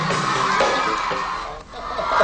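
Fans cheer and yell at an Etude Pinkplay concert as Lee Min Ho appears, a dense crowd roar with whoops that stays loud and steady throughout.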